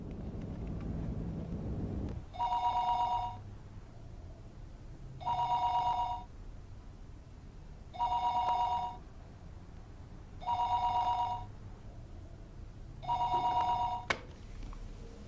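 A landline telephone rings out after a home number is dialed, five evenly spaced electronic ring tones, each about a second long with gaps between, heard clearly over a faint hiss of background noise.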